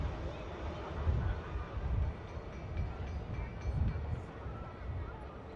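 A Ryanair Boeing 737 MAX 8200 rolls down the runway at Manchester Airport on takeoff, a distant low rumbling roar that swells and eases, with voices faintly present.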